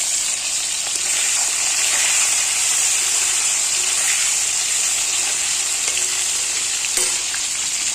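Potatoes, onions and tomatoes fry together in a pan with a loud, constant hissing sizzle, close up and unbroken, with a few faint clinks of stirring and no talking.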